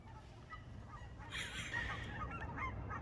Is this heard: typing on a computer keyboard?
no